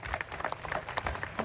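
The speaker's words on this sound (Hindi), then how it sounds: "उनकी खातिर भी एक बार जोरदार तालियां।" Crowd applause at a farmers' protest sit-in in a village, a dense patter of many hands clapping with some sharper individual claps, moderately quiet and continuous with no clear speech.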